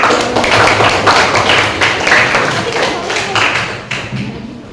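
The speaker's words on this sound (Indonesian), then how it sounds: "Kita berikan tepuk tangan." A classroom breaks into applause after a group presentation, a burst of many hands clapping at once that stays strong for several seconds before tapering slightly.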